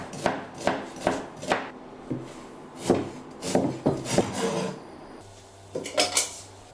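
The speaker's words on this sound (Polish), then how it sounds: "Pozbądź się skóry z boczku i pokrój drobną." Knife chopping bacon on a cutting board in irregular sharp knocks, some single and some in quick runs, close and fairly clear, with short pauses between bursts.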